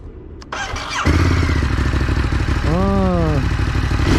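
A Ducati Scrambler 821 on its stock exhaust cranks briefly, then fires up and settles into a loud, steady, close-up idle with a throaty V-twin rumble.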